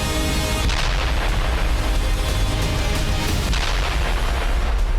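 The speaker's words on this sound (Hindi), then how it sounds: "तस्वीरों में एक के बाद एक कई ठिकानों पर इजरायली सेना के बम बरसते नजर आए।" Israeli army airstrikes on Hezbollah targets produce a dense, continuous roar of booming blasts, loud and unbroken, with heavier thuds standing out from the rumble and no voices.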